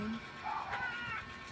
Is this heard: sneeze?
no